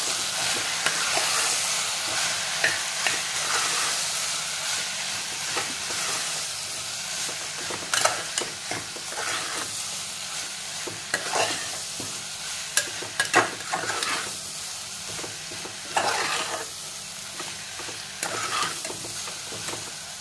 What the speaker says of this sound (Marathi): लाल तिखट आणि किचन किंग मसाला आणि एकदा नीट परतून घ्या.